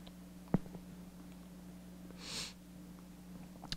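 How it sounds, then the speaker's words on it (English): A person sniffs once through the nose in a quiet room, a soft, close breathy rush lasting under half a second, with faint clicks and a steady low hum beneath. "Apologize for sniffing."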